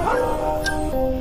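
Puppies whine and whimper at night in a steady high, wavering cry that drifts and drops in pitch, close and continuous with no talk.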